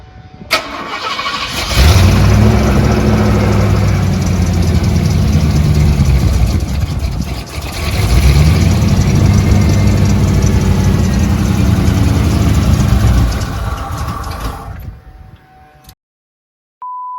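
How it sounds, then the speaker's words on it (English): A Ford 351 Windsor V8 in a car cranks and fires, then settles into a loud, close, rumbling idle that rises and falls once before cutting off. "So now I'm gonna start this pretty much after I hook up the battery."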